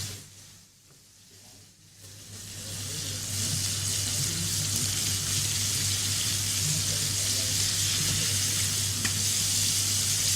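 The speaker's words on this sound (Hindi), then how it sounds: "विंग्स को उसमें अच्छी तरह से कोट करके आपने करना है इसको डीप फ्राई।" Chicken wings coated in a dry spice mix deep-fry in oil: after a quieter start, a loud, steady, bubbling sizzle builds and holds close by, with a low electrical hum beneath.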